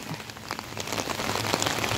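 Steady rain falls on a farm field, a dense close patter of drops on surfaces and wet ground, continuous and even with no voices.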